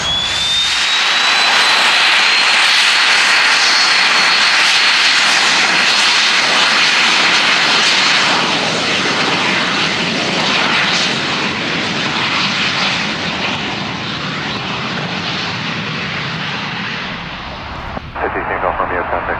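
A Cessna Citation business jet takes off from runway 24 at McClellan-Palomar Airport, its loud, steady roar filling the whole stretch before fading slightly at the end. A radio voice is faintly present.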